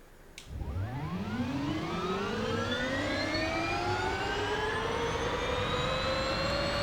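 Inside a 1000 hp electric Hyundai N Vision in Forza Horizon 5, a high electric whine rises steadily in pitch as it speeds up, continuous and fairly loud over a low rumble, with no talking.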